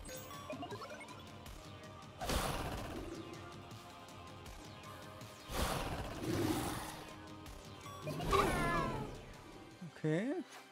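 A cat meows several times in the video game Echo Generation, short bursts separated by pauses, mixed with game sound effects and a final rising yowl near the end.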